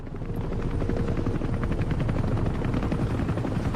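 Helicopter from Metal Gear Solid V, a steady loud rotor chop with dense low-frequency thumping that holds evenly throughout, no talk over it.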